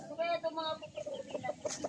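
A fighting rooster nearby gives a strained crow, then a run of short rhythmic clucks, with a person talking over the bird.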